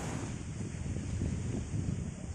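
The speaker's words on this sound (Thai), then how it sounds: "ยามเช้า ลมแรงอากาศเย็นสบาย" Strong morning wind at a beach in Chanthaburi, Thailand, a steady low rush of gusts buffeting the microphone with surf faintly underneath, no voices.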